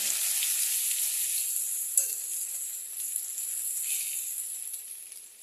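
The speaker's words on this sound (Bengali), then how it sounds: "এখানে আমি যতখানি আদা নিয়েছি তার আধা আমি তেলের মধ্যে ছাড়বো।" Ginger sizzles in hot oil for a cabbage ghonto, a steady close-up hiss with a brief crackle burst early on, fading slightly at the end, with no talking.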